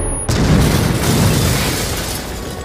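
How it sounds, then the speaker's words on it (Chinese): A bomb strapped to a policewoman's body detonates inside a police station during an action-film shootout. After a brief quiet start, a sudden, very loud blast turns into a sustained, roaring rumble. "直接拉响了身上的炸弹。"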